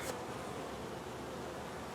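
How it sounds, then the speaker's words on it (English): Bees trapped under a hive screen buzz in a dense, steady hum, close and continuous throughout, with no voices. "And there's some bees that get trapped up there."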